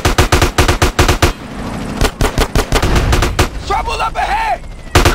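Rapid bursts of automatic gunfire in Grand Theft Auto: San Andreas, loud and close, in stuttering volleys with short gaps, followed by a spoken line and then a final shot.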